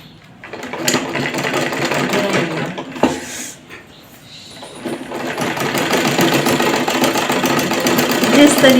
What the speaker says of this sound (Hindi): जैसे जैसा हमारा निशान आया है उस हिसाब से हम यहाँ पे सिलना शुरू करेंगे।